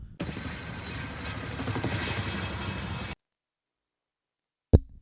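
Helicopter flying overhead, a steady close rotor and engine roar lasting about three seconds before cutting off, followed by a brief sharp knock.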